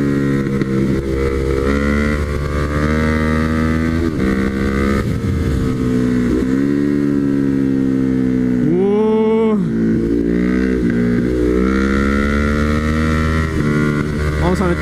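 A Ducati Hypermotard 939 motorcycle engine drones steadily while riding, with its pitch rising and falling as the rider shifts and accelerates, loud and close throughout.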